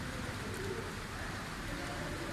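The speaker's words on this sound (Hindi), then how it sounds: "ये बारिश हो रही है अभी, देख रहे हैं आप।" Steady rain falls outdoors near a temple on a cold, stormy day in the Swat valley mountains after a hailstorm, a soft, even hiss of drops spread across the whole stretch with no talk over it.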